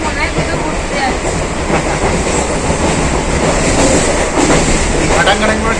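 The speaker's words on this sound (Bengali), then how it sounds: "এই ঘাটাং ঘাটাং করে ট্রেনের যে আওয়াজটা হচ্ছে, এটা তো আরো বেশি ভালো লাগে।" A local train clatters along the rails at night, loud and close, with continuous rumbling and rhythmic clickety-clack from the wheels filling the whole stretch.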